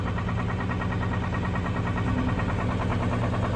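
A car engine idles just after starting on a ranch with the clutch held in, a steady, loud, dense rumble that holds level throughout with no voices.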